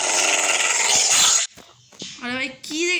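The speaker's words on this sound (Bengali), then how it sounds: "ওইদিকে মনে হচ্ছে একটা ডগ।" A dog in the video game Craftman 4 gives short growling, whining calls in the second half, after a loud burst of broadband noise, with people talking around it.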